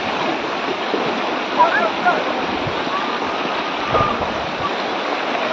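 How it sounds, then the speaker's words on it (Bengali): Floodwater in Hailakandi, Matijuri rushing in fast as a steady, broad roaring torrent that stays constant throughout, with faint voices in the background. "দেখি কিলা স্পিডে ইয়া জল ঢুকে, এর কোনো সীমা নাই, মানে অত বেশি স্পিড"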